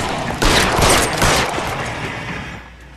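A rapid burst of close gunfire rips out in the 1940s detective game L.A. Noire, loud and dense for about two seconds before it tails off, with no talking over it.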